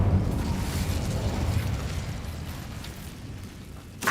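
Incendio fire spell cast in the video game Hogwarts Legacy, a rushing roar of flame that gradually fades, followed by a short sharp burst at the end.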